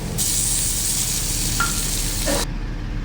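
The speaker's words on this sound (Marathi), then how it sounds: "लसूण पण परतून झाला आहे आपला टोमॅटो टाकून घेऊ" Chopped tomato goes into a pan of frying crushed garlic for a Maharashtrian okra dish, raising a loud, steady sizzle that lasts about two seconds with a couple of soft stirring scrapes before it abruptly drops away.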